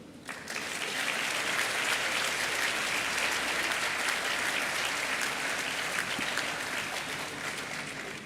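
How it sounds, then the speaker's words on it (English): Sustained audience applause at the grand opening of a Panasonic EV battery plant in Kansas, swelling quickly after a brief pause and holding as a thick, even clatter of many hands to the end. "I'm looking forward to all the applause"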